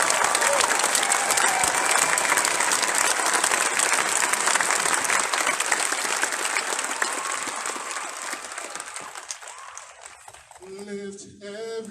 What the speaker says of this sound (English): I'd like you all to give a round of applause for Rico Went.